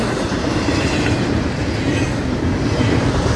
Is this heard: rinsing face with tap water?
no